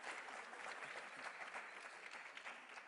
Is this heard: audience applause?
yes